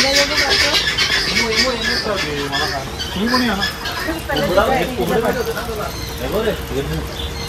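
Chickens squawk and cluck repeatedly at a bird park in Nashik, their calls close and overlapping against a background of crowd chatter.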